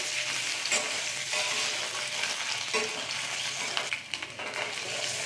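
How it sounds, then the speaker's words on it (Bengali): Duck eggs fry and are stirred in hot oil in a pan, a continuous close sizzle with occasional scraping from the stirring. "ডিমগুলোকে ভালো করে লাল লাল করে একটু ভেজে নেব,"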